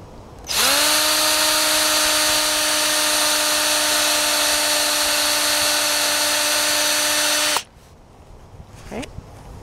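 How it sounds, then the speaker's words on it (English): A power drill drilling a hole spins up sharply and whines at a steady high pitch for about seven seconds, then stops abruptly, leaving faint background sounds. "So I'm getting ready here to drill my hole."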